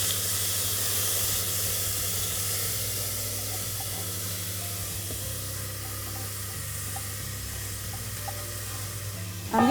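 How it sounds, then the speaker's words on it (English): Cumin seeds sputtering in hot oil as rice is added to the pan for Indian dal makhani, a steady close hiss and sizzle with faint crackles throughout, no talking. "So now that the cumin seeds are sputtering"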